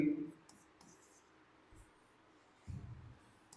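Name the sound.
writing on a board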